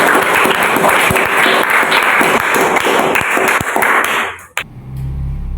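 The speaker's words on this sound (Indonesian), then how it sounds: "Tepuk tangan dulu yuk, tepuk tangan." A classroom bursts into clapping for about four seconds, loud and busy with sharp individual claps, before it cuts off abruptly into quieter room noise.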